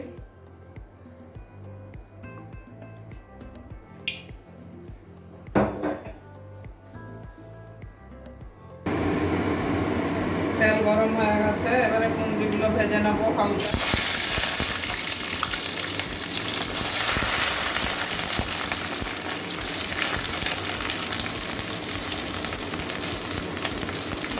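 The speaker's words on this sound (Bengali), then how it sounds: "কড়াই গরম হয়ে গেছে এবারে তেল ঢেলে নিচ্ছি" Oil is poured into a hot kadai for a potato and kundru curry. Quiet kitchen clatter gives way to a loud, continuous frying sizzle that swells further and stays dense and steady to the end.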